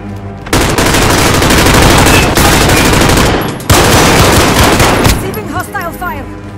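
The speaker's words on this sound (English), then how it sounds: "Receiving hostile fire." Video game gunfire in a combat mission, with loud continuous automatic bursts that crackle close and dense for several seconds, break briefly and resume, with faint voices beneath near the end.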